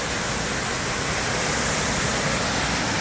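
A reinforced waterfall roars in a constant dense rush of broadband noise, loud and close, unbroken for the whole stretch with no voices over it.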